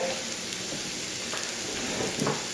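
Chopped onions and garlic frying and browning in a pan for a curry, a steady close sizzle and crackle of hot oil throughout, with a few faint stirring clicks and no talking.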